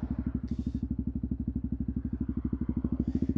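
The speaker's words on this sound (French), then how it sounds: "Donc j'accélère un petit peu, je lâche l'embrayage." A motorcycle engine chugs close by in a steady, even beat of pulses as the rider opens the throttle slightly and releases the clutch to move off on a road.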